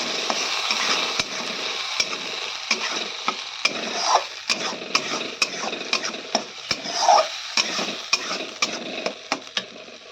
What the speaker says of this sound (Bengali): যতক্ষণ পেঁয়াজের কাঁচা গন্ধ থাকছে ততক্ষণ কিন্তু আমি এটা কষিয়ে নেবো ভালো করে।